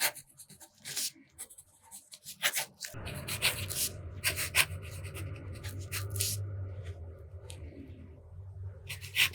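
A fountain pen with a medium nib writes on paper using Sailor Bungubox Ebisu Gold ink, giving close, intermittent scratchy strokes and taps over a low hum that starts partway through.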